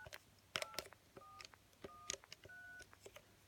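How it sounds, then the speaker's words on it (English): Short touch-tone keypad tones from a BT Minstrel Slimline 5011 telephone, several in an irregular sequence with brief gaps, each a clean two-pitch beep, fairly faint with no voices. "when I press different keys, it makes a different tone, so that's touch tone."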